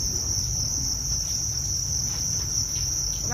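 Crickets on a cricket farm chirp in a steady, continuous high trill, loud and close, with no voices present.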